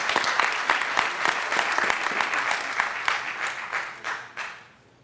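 Audience applause fills a graduation ceremony as the keynote speaker comes forward, a dense steady clapping from a large crowd that holds for several seconds and then tapers off near the end.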